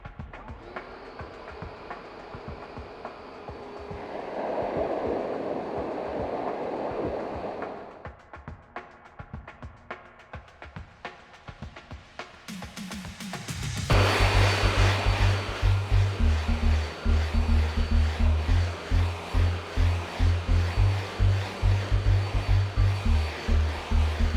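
A STIHL BGA 300 battery backpack leaf blower runs at varying speeds, its whooshing airflow rising and falling before swelling to a loud, steady full-power roar with a pulsing low hum in the second half.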